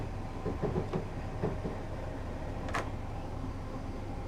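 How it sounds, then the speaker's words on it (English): Electric commuter train in Train Simulator 2016 coasting with power idled on the East Croydon to London Bridge route, a steady low rumble with faint rail clicks and one brief hiss midway. "I'm just going to allow the train to coast towards Norwood Junction station"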